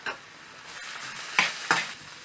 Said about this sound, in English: Fry it on medium heat so that the moisture goes off.